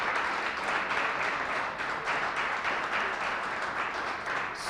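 Sustained applause from an audience at an industrial park announcement in Waterbury, steady and fairly loud throughout with no talking.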